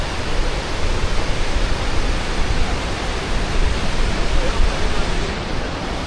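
Waterfall at Krka in Croatia, a loud, steady, close roar of falling water heard through woods, constant and unbroken with no voices.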